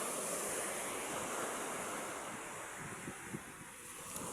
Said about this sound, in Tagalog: Malakas yung alon ngayon